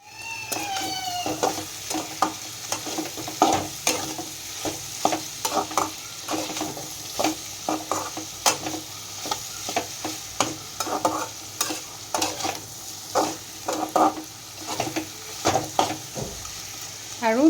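Chicken sizzling in a frying pan while a spatula scrapes and taps in a quick, fairly regular stirring rhythm, close and steady, with a brief whistle-like tone at the start and a short voice at the end.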